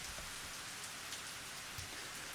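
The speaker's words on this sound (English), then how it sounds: "It must have just been the rain striking the leaves." Steady rain pattering on foliage in the game Higurashi, a dense, even hiss of drops with no voices, continuous throughout.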